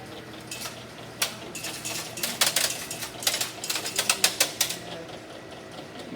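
Mats drop back in at the top of an elevator machine, making a run of quick rattling clacks and knocks that grow denser, over a steady mechanical hum.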